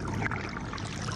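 Chlorella algae is poured into the Ros river, a short continuous splash and trickle of liquid into water close by, with no voices.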